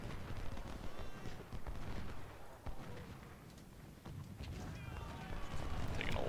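Cannon artillery fire booms repeatedly in a Civil War battle video game, distant-sounding thuds and cracks layered over a busy, noisy battlefield din.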